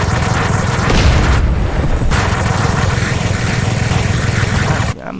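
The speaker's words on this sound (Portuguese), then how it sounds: "A minigun rasgando parede aqui." Minigun in a GTA game tearing through a wall, a dense, continuous roar of rapid fire with heavy low rumble, loud and sustained for several seconds with a brief gap partway through before cutting off near the end.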